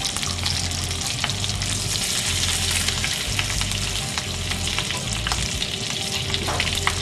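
A pork fillet sears over raised heat in a sauté pan as it is turned to brown on all sides, giving a loud, dense, continuous sizzle close up with faint scattered crackles.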